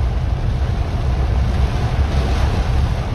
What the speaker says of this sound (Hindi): जब बारिश के फर्श पे पड़ती है, छत पे पड़ती है या इस स्क्रीन पे पड़ती है तो वो अपनी साउंड बनाती है।